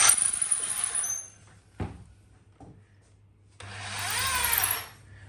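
A power drill bores through a kudu horn shofar, with a loud whining burst at the start, a few faint knocks and clicks in a quiet stretch, then a second sustained drilling run.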